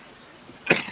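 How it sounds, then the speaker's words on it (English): One short, sharp cough breaks in near the end after a near-silent stretch, close to the listener and over in a fraction of a second. "I was coughing at you."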